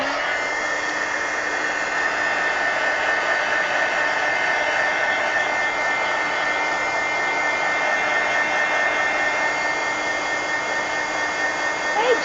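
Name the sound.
hair dryer drying paint in an altered book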